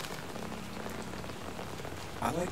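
Steady rain falling on surfaces in the video game Batman: The Telltale Series, a dense, even hiss that continues throughout, with a faint low hum beneath and a brief brighter tone near the end.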